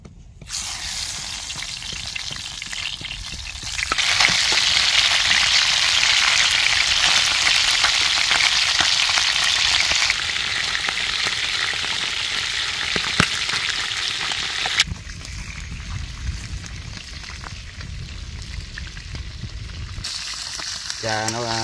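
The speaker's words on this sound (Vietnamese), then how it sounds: "Tại vì dầu cũng sơ rồi anh cho cá vô luôn." Fish fried in hot oil, a loud, close, continuous sizzle and crackle that swells sharply after a few seconds, then eases in stages and shifts in tone as the frying goes on.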